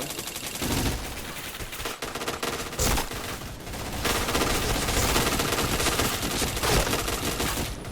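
APC9 gun firing in a shooter video game, dense sustained automatic bursts of loud gunfire with brief pauses, rattling almost continuously throughout.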